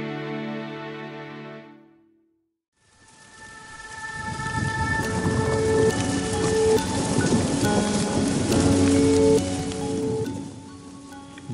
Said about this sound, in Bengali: উত্তরপ্রদেশ ঢোকার পর থেকে শুরু হলো প্রচণ্ড বৃষ্টি এবং বজ্রপাত